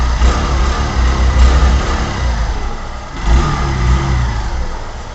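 A 2026 Honda Shine 100 DX, a light 100cc motorcycle, its engine revving up and down in a few loud close swells over a steady running drone, with no voices.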